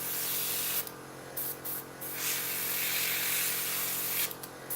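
Primer sprayed from an airbrush onto a small model aircraft wheel, soft short hissing bursts that start and stop several times over a low background hum, close and fairly quiet.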